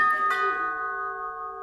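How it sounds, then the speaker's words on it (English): A doorbell chime sounds once at a house party: a clear, close bell tone that rings out and then slowly fades over about a second and a half. "that's the first time this series that the doorbell's gone off"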